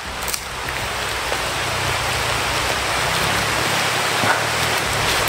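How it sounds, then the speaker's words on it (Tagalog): Heavy rain falls hard and constantly, a loud broad roar of drops on surfaces close around, with a low rumble beneath and no talking. "Kaya sobrang lakas ng ulan."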